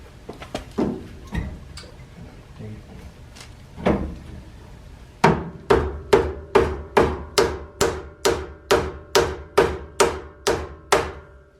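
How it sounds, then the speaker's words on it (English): Repeated sharp knocks of a rubber hammer during maintenance on a 2009 GMC, a few irregular strikes followed by a steady run of about fourteen evenly spaced blows. "Rubber hammer."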